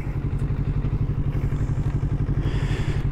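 2024 Kawasaki Z650 motorcycle idling and moving off, a steady close parallel-twin engine thrum with rhythmic low pulses and light mechanical clatter.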